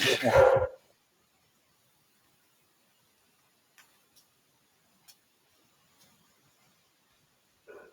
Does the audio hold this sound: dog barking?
yes